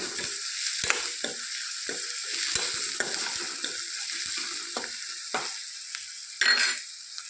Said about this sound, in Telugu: మరి కొంచెం పసుపు వేసుకుందాం. వేసుకొని ఒకసారి కలుపుకుందామండి.